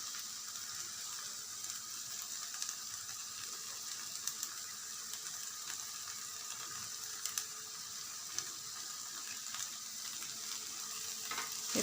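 Vegetable curry roll stuffing with coriander and grated cheese being stirred in a hot pan, giving a steady low sizzle and soft scraping that run evenly throughout with no talking.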